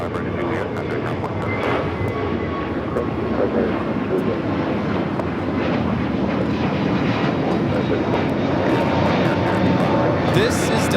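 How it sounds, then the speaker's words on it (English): Delta Airlines Airbus A321neo, flight 749 to Tampa, roaring steadily through takeoff at LAX, a loud broad engine rumble sustained throughout with voices talking over it. "This is Delta Airlines 749 taking off to Tampa, Florida on the A321neo."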